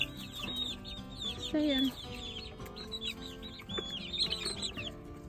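Barred Rock hens cluck and chirp close by in a warm coop, many overlapping calls with a few squawks, while a person talks briefly to them.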